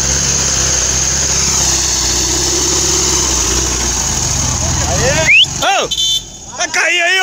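Engine of an off-road buggy at a Gaiola club event in Ipeúna, Brazil, running loud and revving amid shouting spectators, with sharp pitch swings and brief dropouts toward the end.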